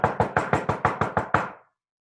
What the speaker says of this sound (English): an aggressive door knock like that captures the attention of the person behind the door